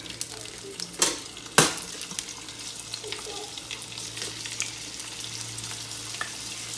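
Sausage drops into hot oil with a sharp burst of sizzling, then settles into a steady, close crackling fry punctuated by light clicks of utensils against the pan.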